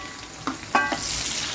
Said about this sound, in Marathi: टोमॅटो सुद्धा परतून घ्या.